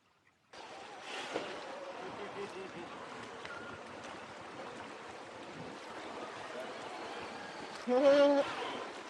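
TRX-4 Bronco RC truck splashing through creek water at Lesmurdie Falls, a continuous rushing, watery wash that is close and steady, with a brief louder surge near the end and a voice faintly underneath.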